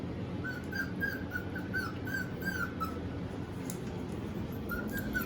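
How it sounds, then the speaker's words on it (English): A poodle whimpers in a series of thin, high whines, close and fairly quiet over a low background hum, with a pause and a final short whine near the end. "She's a poodle."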